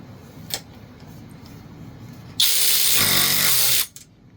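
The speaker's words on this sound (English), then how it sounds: "So we're going to torque this down again." A SeeSii cordless power ratchet wrench whirs loudly in one burst of about a second and a half while torquing a bolt down, following a faint click and then stopping abruptly.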